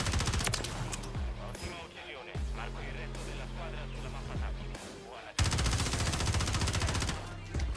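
Warzone gunfire on Rebirth Island, played on PS5: repeated bursts of rapid automatic fire, loud and close, with someone talking in Italian between and over the shots.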